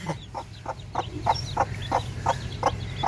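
A desi hen with newly hatched chicks clucks in a soft, regular series of about ten short low calls spaced roughly a third of a second apart, close by and steady, with no one talking.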